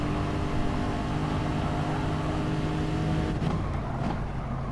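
A race car in GT Sport at the Suzuka circuit accelerates with a loud, sustained engine roar that rises steadily in pitch, then falls and dips briefly near the end.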